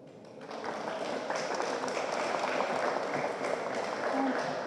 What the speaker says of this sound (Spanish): Ella es Ana Manzano, para quien pido un fuerte aplauso.